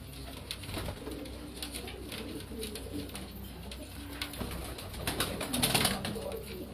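Firozpuri pigeons coo on a rooftop in Karachi, a continuous low throaty chorus of overlapping calls with no talk.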